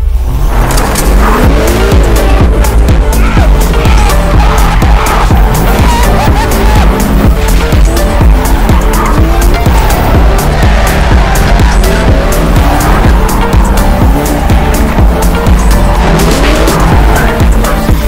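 A race car drifts with tires squealing and skidding while its engine roars loudly and continuously up close, and a faint murmur of voices sits under the noise.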